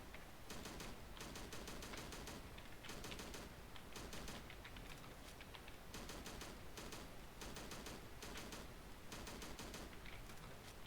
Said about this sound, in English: So I'm going to switch to my assault rifle here.